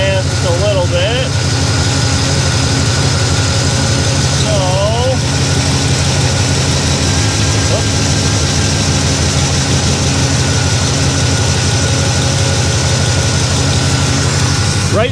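A 1957 Chevy Bel Air engine idles steadily around 700 RPM, a close, constant low rumble running throughout, with occasional faint squeaky chirps on top and no words spoken.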